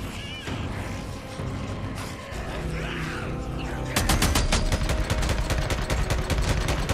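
MG45 machine gun firing in a video game: muffled action noise at first, then from about four seconds a loud, rapid, steady burst of repeated shots, with no voices.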